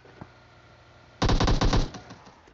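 A sudden burst of rapid automatic gunfire in PUBG Mobile starts after a quiet moment, rattles loudly for nearly a second, then trails off with a few scattered shots.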